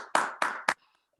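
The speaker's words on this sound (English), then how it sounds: "Let's give him a round of applause" Three sharp, close hand claps at a Toastmasters meeting for the general evaluator, evenly spaced, then near silence.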